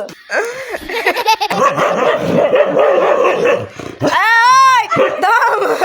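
Dogs at a rural farm home bark and yelp in a noisy stretch, with rising and falling whining cries close by near the end.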